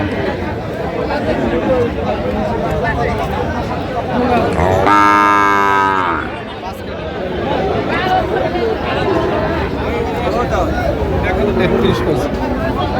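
At a crowded cattle market a Sahiwal bull lets out one long, loud moo near the middle, rising above the constant hubbub of people talking and haggling around it.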